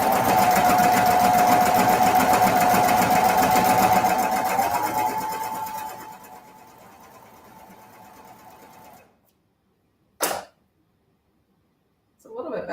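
A sewing machine stitches a ruffled skirt, its fast motor whine running loud and steady, then slowing and fading to a quieter hum before stopping, followed by silence and two short bursts of noise.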